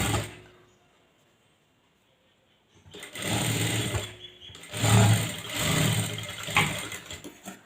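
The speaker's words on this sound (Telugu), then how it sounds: "బ్యాక్ పార్ట్ నెక్ కుట్టడం అయిపోయింది." Sewing machine stitching the back neck of a tucked blouse, starting after a near-silent pause and running in loud, steady mechanical bursts with brief slowdowns to the end.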